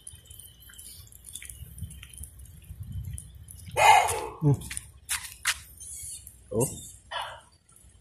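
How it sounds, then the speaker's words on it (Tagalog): A dog barks several times on a hillside in a mountain setting, with sharp separated barks rising out of quiet background hum, and a brief human exclamation heard near the clip's start. "Puntahan muna natin dito itong nagtahol ng tahol dito."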